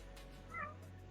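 A house cat gives a single short, soft meow at close range, faint against quiet room hum, with no talking.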